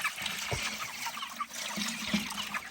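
Water hisses and spatters from a hose nearby, a broad continuous spray with a few dull knocks, no voices.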